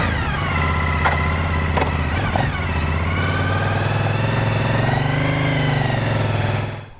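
A V-twin sport bike engine runs close and loud with a steady, throbbing idle that holds its pitch, rising slightly in a smooth rev before settling.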